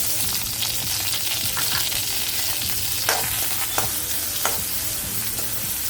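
Onion sautéing in a pan sizzles continuously, with scraping stirs and a few sharp spatula clicks cutting through the frying noise.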